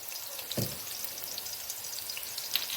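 Chopped onions with salt sautéing in a pan for a dal and spinach dish, a steady soft sizzle and crackle with a stir or clink now and then, heard alone.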